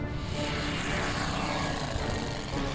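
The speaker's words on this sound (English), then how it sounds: "OKM has authorized the launch of additional reconnaissance aircraft" Reconnaissance aircraft launch in the World War II strategy game Order of Battle, heard as a dense, continuous propeller-engine roar that stays loud and steady throughout.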